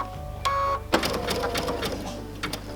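A home sewing machine runs a zigzag stitch around a curve of raw-edge appliqué, a brief close mechanical whir with rapid stitching ticks that stops and restarts, with light clicks around it.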